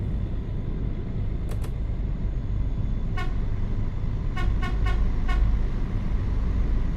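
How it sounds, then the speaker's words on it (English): A 1999 Busscar Vissta Buss in Euro Truck Simulator 2 gives short horn toots: a quick double, then a single, then a rapid cluster of four, over a steady loud engine rumble. "I like that little horn. That's what it does. It does dun dun."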